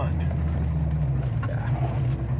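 A 1978 Pontiac Firebird Formula V8 idles at about 800-900 rpm with no lifter or exhaust noise, a quiet, steady low rumble throughout the short stretch.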